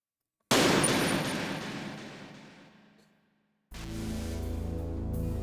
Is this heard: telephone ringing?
no